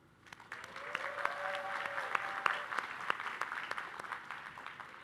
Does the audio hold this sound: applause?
yes